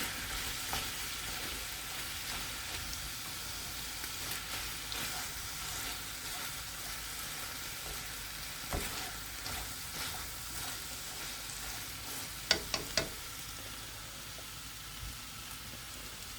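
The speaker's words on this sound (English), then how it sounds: "now it's turning into more of a stir fry, which is exactly what you want on this." Korean spicy kimchi chicken stir-frying in a pan, giving a steady, bright sizzle throughout with a few sharp utensil clicks near the end.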